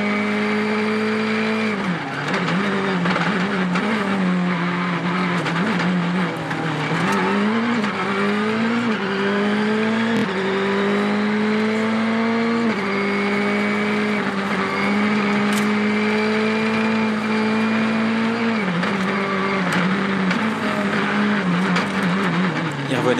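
Citroën DS3 WRC rally car heard from the onboard seat on a stage, its engine loud and continuous with pitch rising and falling through gear changes, brief tyre noise, and faint voices underneath.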